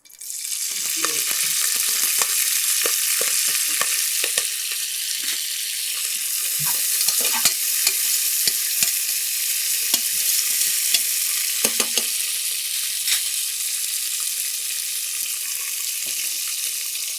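Drumstick leaves frying in melted ghee for pongal, a steady close sizzle with scattered crackles and pops throughout, no voices.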